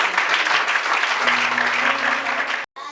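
Lively audience applause at a children's worship service, brisk dense clapping with a faint sustained tone underneath, cut off abruptly near the end before a short resumption.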